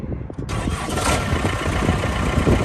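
A Case 1845C skid steer engine cranks and catches after a short pause, then settles into a loud, steady diesel rumble close by.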